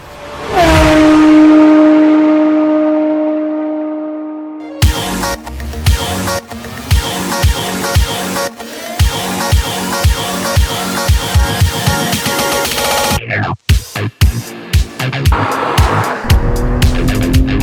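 BMW M3 E46 CSL on a test drive after a suspension setup, its engine revving loudly from a start then running under hard acceleration with repeated sharp gear-change breaks and throttle bursts, close and dominant throughout.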